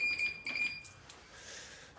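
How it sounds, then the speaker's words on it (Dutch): A burglar alarm at company premises gives off faint, thin electronic beeping tones in short intermittent bursts, heard from a distance against quiet background noise. "Het alarm is keihard, hè? Dat hoor je direct."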